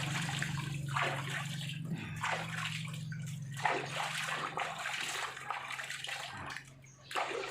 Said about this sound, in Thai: อาบน้ำให้น้องหมานะคะลีโอ โซดานะคะ